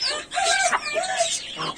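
Aseel chickens, including a white rooster, cluck and call close by, with short rising crow-like cries amid a busy run of clucks at steady loudness.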